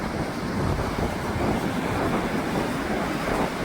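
Wind-whipped, choppy ocean surf rolls onto the beach at Tybee Island, Georgia, as a steady loud wash of breaking waves mixed with gusting wind noise, with no voices.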